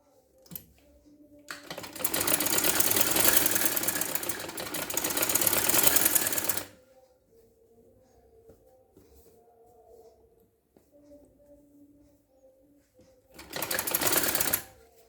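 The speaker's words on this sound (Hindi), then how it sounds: "ये देखिए हमने पूरी सिलाई इसकी कर दी है।" An electric sewing machine stitches a trouser seam in two rapid bursts, a long whirring run of several seconds followed by a shorter one, with quiet pauses between them.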